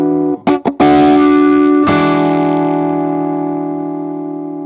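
An electric guitar through a phase effect pedal with the blend turned fully up: a few quick chopped strums, then a loud ringing chord struck twice that sustains and slowly decays with a swirling, shifting tone.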